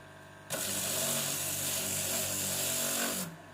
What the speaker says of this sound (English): The sanding process is now underway.